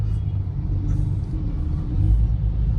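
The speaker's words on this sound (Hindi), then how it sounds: "ये वेस्टर्न एक्सप्रेस हाईवे पे हूँ मैं" Dense road traffic on Mumbai's Western Express Highway, a steady low rumble of cars and buses passing close by, continuous throughout with a slight swell near the end and no talking.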